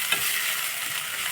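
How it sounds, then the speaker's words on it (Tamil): Shredded cabbage sautéing in a pan for cabbage rice, a steady close hiss of frying with one short scrape of a spoon near the start. "கோஸ் நல்லா வதங்கியாச்சு"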